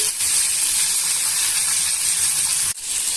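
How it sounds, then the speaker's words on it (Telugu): Eggplant pieces fry over a medium flame on the stove, giving a steady, loud broadband sizzle and hiss throughout, with a short dip near the end. "వంకాయ ముక్కల్ని నాటేసుకున్న తర్వాత స్టవ్ మీడియంలో పెట్టుకొని వేయించుకోవాలండి"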